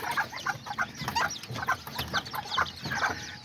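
Serama hens clucking among their chicks, a busy run of short, repeated clucks and chirps close by, steady and lively with no talking.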